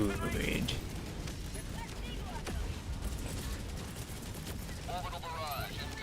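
Rapid automatic weapons fire in the video game Helldivers, a steady crackling stream of shots running throughout under speech and other battle sounds.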